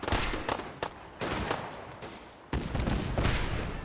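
Explosive blasts from rocket launchers in Fallout 4 with the Sim Settlements mod, several loud booming impacts separated by short lulls, with no speech.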